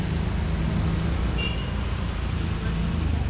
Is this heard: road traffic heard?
yes